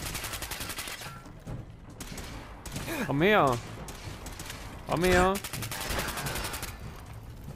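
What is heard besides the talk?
gunfire from enemies in video game Fallout 4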